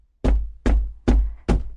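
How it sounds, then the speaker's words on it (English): Four evenly spaced, heavy knocks on a wooden door, close and loud with a deep thud, each followed by a brief dull ring before the next. "the fisherman went to the priest's house and knocked on his door"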